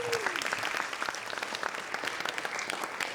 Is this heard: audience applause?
yes